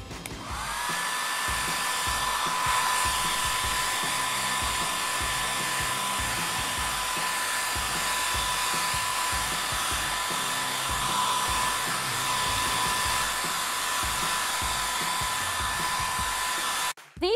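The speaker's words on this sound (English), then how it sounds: "Marinette, I will blow dry your hair to perfection" Toy hair dryer blowing a doll's hair in a play beauty salon, a steady continuous whirring hum with a faint high whine, running alone and unbroken at close range for the whole stretch before cutting off.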